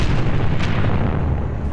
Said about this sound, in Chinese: 一旦在密闭空间爆炸，